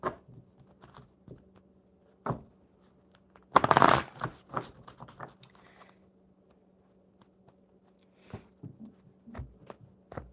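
Tarot card deck being shuffled by hand, soft riffling bursts with a longer loud shuffle near the middle, close and otherwise quiet, with scattered small handling clicks.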